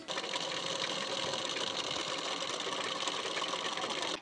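An electric sewing machine runs a steady close-up stitch along the edge of a fabric strip for a boat-neck blouse, its rapid even whirring holding for about four seconds before stopping, with no talk.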